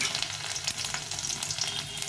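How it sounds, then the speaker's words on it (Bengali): Garlic fries in hot oil for a bhorta, giving a steady, close crackling sizzle with no voices over it. "এই তেলে এখন রসুনটা আর পেঁয়াজটা ভেজে নেব"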